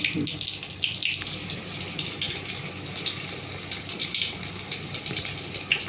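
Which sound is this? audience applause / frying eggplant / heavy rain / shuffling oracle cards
frying eggplant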